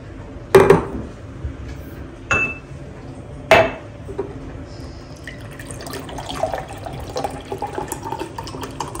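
A drink poured into a glass at home: a few sharp clinks of glass and utensils, then a softer stream of liquid filling the glass, close by with no voices.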